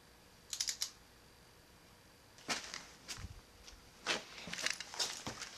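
A torque wrench clicks while water pump bolts on a rally car engine are tightened, giving several quick, crisp bursts of close metallic clicks separated by short pauses in a quiet garage.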